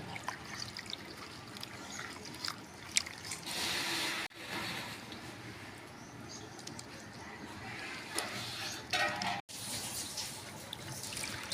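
Vallarai greens being rinsed in a bowl of water at home: soft, steady sloshing and trickling with a few splashes, fairly quiet, birds cooing faintly in the background and no talking.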